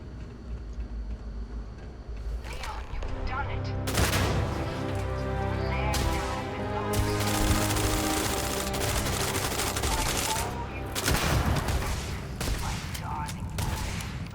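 Bursts of gunfire in the Starfield video game, a sustained fusillade of rapid shots with sharp louder cracks breaking through, dense and close, set against mechanical game noise with someone talking at times.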